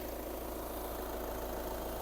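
A 2.0 TDI diesel engine in an Audi A5 with a manual gearbox idles steadily, a low continuous drone with even mechanical vibration and no voices or changes in pitch.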